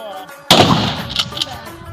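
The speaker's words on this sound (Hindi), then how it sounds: "सिर्फ फायर करो" A single sharp rifle shot at firing practice cracks out after a short quiet moment, then a rough echoing tail fades across the following second.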